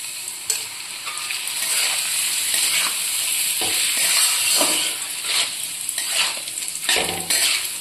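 Rice and lentils for khichdi frying and being stirred in a hot pan, making a loud, bright, hissing sizzle with repeated scraping strokes close by.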